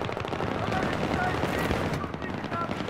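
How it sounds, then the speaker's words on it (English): Automatic gunfire from a teammate in Battlefield 3, a rapid burst of close shots filling the short moment as game noise continues around it. "I was being shot at by a teammate"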